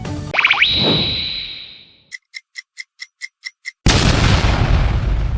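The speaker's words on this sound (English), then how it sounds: "It is the fire dragon explosion." An anime fire dragon explosion attack opens with a loud blast and a rising ringing whine that fades out. Eight evenly spaced ticking hits follow, then a sudden roaring burst of noise.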